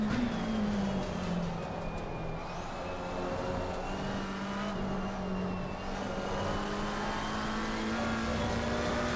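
A race car engine in Assetto Corsa Competizione revs steadily at high pitch and winds up into third gear. The engine note is loud and continuous, with only small shifts in pitch.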